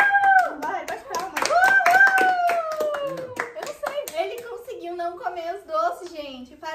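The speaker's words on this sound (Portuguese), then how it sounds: "Parabéns, uma salva de palmas pra ele, vai." A small group at home claps for someone who finished a candy salad, with quick, uneven handclaps mixed under cheerful talking and a voice.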